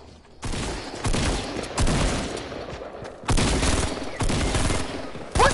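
Repeated burst-fire gunshots from a shooter video game crack out in several loud volleys, with short pauses between the clusters of rapid shots.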